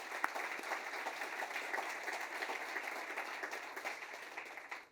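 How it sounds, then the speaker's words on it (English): Sustained applause from a seated audience at a program's final showcase, an even patter of many hands at moderate level that carries on steadily and tapers off right at the end, with no voices on top. "maybe we can give them a first round of applause before we hear from them"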